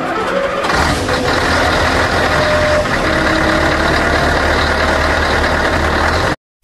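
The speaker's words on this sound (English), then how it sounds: "Truck." A truck engine runs steadily at a loud, even level, with a deep rumble that holds for about six seconds before cutting off abruptly.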